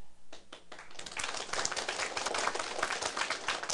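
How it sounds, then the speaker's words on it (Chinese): Audience applause at a lecture for a Taiwan civil-government advanced administrative seminar: dense, steady clapping swells in after a second of quiet and fills the room, close and continuous. "各位拍手是很爽，也很欢喜的事情"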